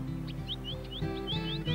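A finch chirps after rain in a quiet outdoor setting, a series of quick high rising tweets repeated about every quarter second over a low steady hum.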